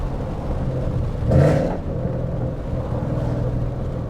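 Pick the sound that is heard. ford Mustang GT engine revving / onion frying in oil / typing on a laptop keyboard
ford Mustang GT engine revving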